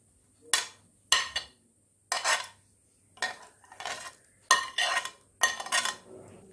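Vegetables are mixed into a rice batter in a bowl with a utensil, giving repeated separate bursts of clattering, scraping strokes separated by short pauses, close and moderately loud, with no voices.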